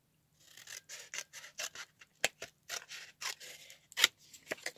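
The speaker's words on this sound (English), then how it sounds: "I think all I need is this part anyway, so I'm just gonna cut." Scissors snip repeatedly through material while working on a shabby-style dress form, a close series of crisp, separate cuts with short pauses between them.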